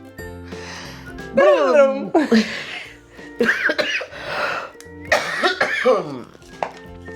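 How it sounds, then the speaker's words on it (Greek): Several rough, throaty coughs come in clusters over about seven seconds, close and fairly loud, with voiced, strained edges and short quiet gaps between the bouts. "Έτσι θα πάω από βήχα."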